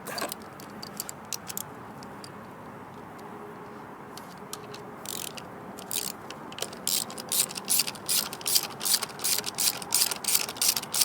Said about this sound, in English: Put it on the ratchet.